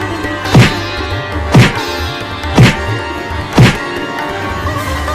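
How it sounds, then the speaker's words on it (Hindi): Four heavy thuds strike a jammed door in a cartoon at roughly one-second intervals, each a loud dull impact with a sharp crack, over a low steady hum. "रुको मैं दरवाजे को तोड़ती हूँ।"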